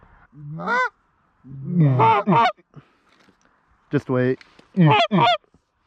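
A goose honks overhead during a hunt, sounding several loud, nasal calls in short bursts, some paired, with quiet gaps between and a brief spoken line among them.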